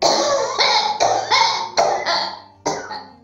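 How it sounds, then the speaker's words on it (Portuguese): A woman's forced, theatrical coughing: a run of six sharp coughs in steady succession, close and fairly loud, with a brief pause before the last one. "Ela então forçou a tosse para que ele sentisse mais remorso ainda."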